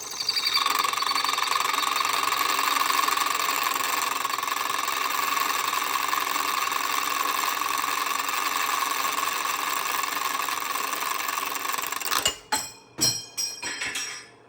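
A drill bores into a workpiece in a shop on a rainy day, a steady whining drone for about twelve seconds before it stops and a few sharp knocks and clanks follow.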